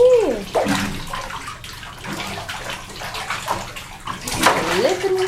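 A baby splashes in bath water with a toy octopus, sloshing and dripping sounds coming close and fairly loud in short bursts, while an adult voice talks warmly over it.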